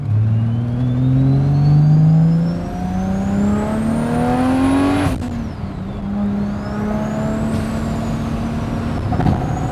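A 700 HP Toyota Supra with a big-turbo 2JZ engine pulling hard on a highway, its engine note rising loud and close through the gears with a whining turbo and brief shift breaks.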